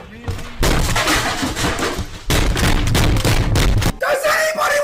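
Gunfire in a video game, loud and dense, comes in two long bursts separated by a brief gap, with a voice shouting over the noise.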